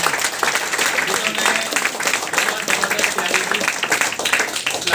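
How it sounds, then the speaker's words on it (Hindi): Dense, steady audience applause rings out for four presenters at a leaders' meeting in Rajouri Garden, Delhi, as a full, continuous wash of clapping from many hands. "तो इन चारों के लिए जोरदार तालियां होनी चाहिए।"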